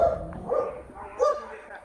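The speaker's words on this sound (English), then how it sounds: "I don't want to disturb the dog over there" A dog near a home in the Bosnian woods gives a few muffled barks and yips at middle distance, mixed in with a person talking close by.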